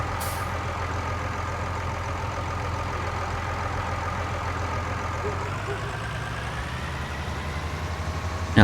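A tractor engine in Farming Simulator 19 drones at a steady idle, close and continuous, with a low rumbling hum that shifts slightly in pitch partway through.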